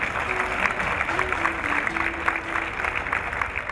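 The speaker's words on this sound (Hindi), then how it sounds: "आपकी भरपूर तालियों में मैं दावत देती हूँ सलीम अख्तर साहब को।" Audience applause at an Eid mushaira poetry gathering, steady mid-level clapping from a crowd throughout, with a faint sustained tone and murmuring underneath.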